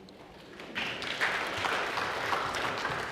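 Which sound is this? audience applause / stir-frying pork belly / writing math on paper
audience applause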